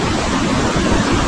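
A waterfall near the double decker root bridge gives a steady, dense rushing roar. It is close and loud, with no break.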